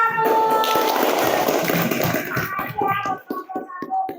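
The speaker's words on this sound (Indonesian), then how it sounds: "Tepuk tangan buat kelompok 1." A classroom group applauds a student team during a teacher-training session in Semarang, with scattered hand claps and taps rising out of a noisy room and thinning into a few separate claps, with some voices underneath.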